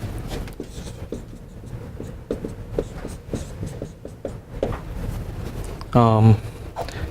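Writing on a board during a lecture makes a run of quick scratchy strokes and taps, close and fairly loud, with a voice talking between them.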